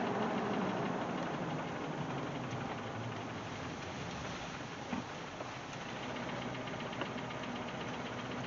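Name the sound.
sunroof cover rattling on idling Jeep Wagoneer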